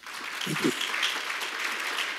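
Congregation clapping during a Korean church worship service, a steady crowd applause filling the room throughout, with a brief voice at the start.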